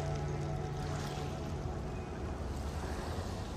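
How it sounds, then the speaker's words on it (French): Steady wash of ocean surf, a continuous broadband rush of waves with a low rumble underneath, fairly loud and unbroken, with road traffic just behind. "Je pense que vous l'entendez, hein, le bruit des vagues."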